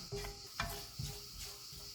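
Mustard seeds and cumin fry in hot oil in a pan over low heat, a soft steady sizzle broken by a few brief crackles and light stirring knocks against the pan.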